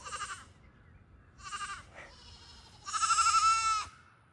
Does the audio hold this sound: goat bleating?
yes